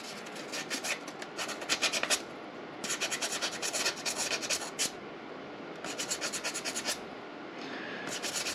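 Sandpaper rasps across the surface of a flathead 45 engine part in rhythmic back-and-forth strokes, close and steady, with short pauses between bursts and no talking.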